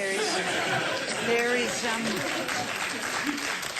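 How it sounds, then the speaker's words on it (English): Sparse applause from a TV panel-show studio audience during a debate, thin clapping mixed with murmuring chatter and a few chuckles, moderately loud and sustained throughout. "Again, scant applause for a cheap point."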